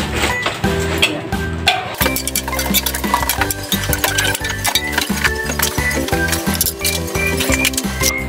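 Spoon or ladle stirring pork caldereta in a metal pot to dissolve caldereta mix powder, giving repeated clinking scrapes in a quick, uneven rhythm, close and fairly loud with no talk.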